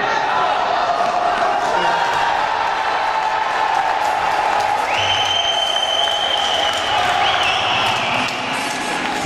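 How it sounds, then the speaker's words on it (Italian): Audience applause at the open final of a sports tournament, a continuous loud wash of clapping and crowd noise with some cheering, lasting throughout. "Un applauso, gran finale, complimenti a tutti."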